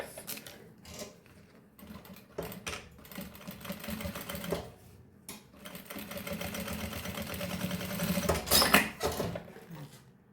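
A sewing machine stitches a baby toiletry bag in short, uneven bursts of quiet close whirring and clicking, pausing between runs and building to a longer stretch near the end.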